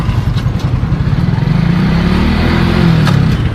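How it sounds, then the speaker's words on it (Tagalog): A motorcycle engine, restarted after its chain came loose in a fall, idles and revs steadily up through the gears to fourth, loud and close, a continuous throbbing drone with rising pitch and no talk over it. "i-start mo ulit yung makina. Paandarin mo hanggang 4th gear."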